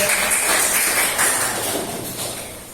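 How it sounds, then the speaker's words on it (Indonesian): Audience clapping after a talk on Islamic dress, a loud, dense wash of many hands that holds steady and then slowly fades toward the end. "tepuk tangan dulu"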